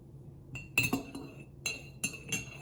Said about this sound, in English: now I have my cup and I have my spoon and I'm gonna stir